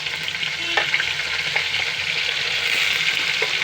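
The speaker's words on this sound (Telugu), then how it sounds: "వేగిపోతున్నాయి కదా" Cumin seeds, curry leaves and dried red chillies sizzle steadily in hot oil, a continuous close frying crackle with occasional soft stirring clicks and no voices.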